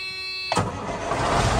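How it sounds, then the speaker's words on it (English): Detroit Series 60 12.7-litre diesel engine in a freight truck cranks briefly, then catches and settles into a loud, steady, rumbling idle close to the microphone. "Engine start."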